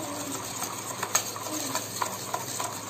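Cocoa powder is stirred into chocolate donut frosting with a utensil, giving soft repeated clicks and taps against the bowl over a faint steady background hiss.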